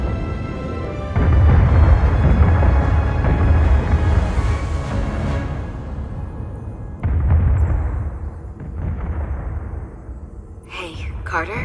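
Loud, deep explosions in the Star Trek Resurgence video game: a heavy rumbling blast rolls on for several seconds, a second booming burst follows, and the sound decays with a short crackling tail at the end.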